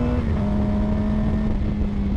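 A motorcycle engine idles steadily through its exhaust, a continuous low rumble with a constant tone, close and fairly loud, no talking over it.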